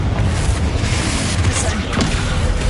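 Spell explosions in the video game Hogwarts Legacy, dense booming blasts and rumble filling the moment, loud and close, with spoken voices mixed in among the impacts.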